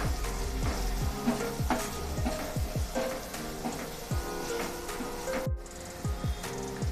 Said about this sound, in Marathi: सर्व मसाले व्यवस्थित परतून झालेले आहेत